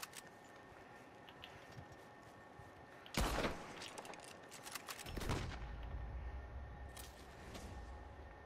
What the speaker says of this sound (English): he's shooting me with a carbine